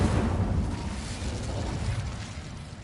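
Incendio fire spell cast in the Hogwarts Legacy video game, a dense low rumbling whoosh of flame that holds steady for a few seconds, loud and close, with no talking.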